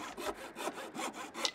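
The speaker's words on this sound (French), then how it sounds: "Oh, on a eu le bruit de la scie." Rhythmic back-and-forth sawing strokes from a hand saw cutting wood in the survival video game The Long Dark, about five rasping passes at a steady pace, close and moderately loud with no talk.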